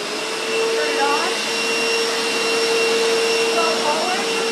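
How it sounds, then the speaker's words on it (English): Hoover SteamVac SpinScrub 50 heated steam carpet cleaner running with Murphy's oil soap solution, a loud continuous whine with a steady high tone and faint rising scrub sweeps. "This is the two-take steam system. Hoover Heated Cleaning Spin Scrub 50."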